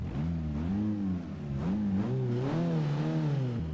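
An Abarth 500 with its 1.4-litre engine revs continuously in Forza Motorsport 6, the pitch rising and falling in repeated surges, loud and close with no talk over it.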